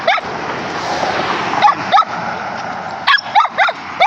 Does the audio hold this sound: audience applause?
no